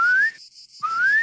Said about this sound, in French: si on siffle comme ça, et ben elle rapplique en courant